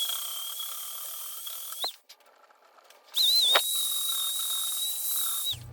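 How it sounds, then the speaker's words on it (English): Dremel rotary tool grinding casting flash off a Ford 200 cylinder head, a high-pitched whine that runs, dips briefly, then spins back up and holds steady before shutting off. "And only after just a few minutes of doing some Dremel work, you can see that things are really, really starting to smooth out."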